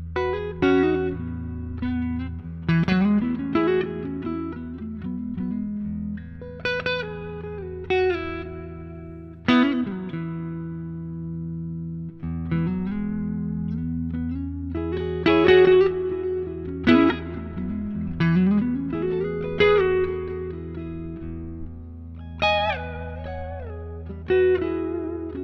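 A Fender Masterbuilt '63 electric guitar built by Todd Kruse plays with a clean tone on the neck pickup. It sounds alone, with plucked single notes and short phrases, some bent or sliding, that ring out with a little reverb.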